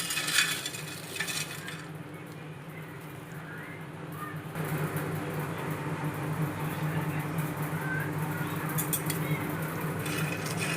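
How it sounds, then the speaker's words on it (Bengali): Whole garam masala spices dry roasting in a pan give a steady gritty rattle and light sizzle as they are stirred, continuous and close for about ten seconds without speech. "এবার আমি গরম মশলাটা ভেজে নেব। গোটা গরম মশলা,"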